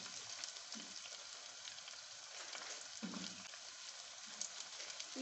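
Onion and capsicum sizzling and frying in a pan for noodle pizza in a home kitchen, a steady crackling hiss throughout with a few soft stirring clunks, close and fairly quiet.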